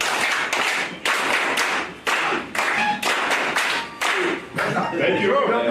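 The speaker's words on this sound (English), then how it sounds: "Starting from now, 2 rounds of applause." A crowd at an alumni association annual general meeting gives rhythmic rounds of clapping, loud and close, in repeated bursts of synchronized claps.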